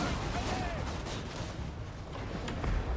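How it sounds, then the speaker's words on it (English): Empire artillery and gun batteries in Total War Warhammer fire in a dense, continuous barrage of overlapping booms and cracks at a steady loud level for a few seconds, with no voices. "So our guns are opening up."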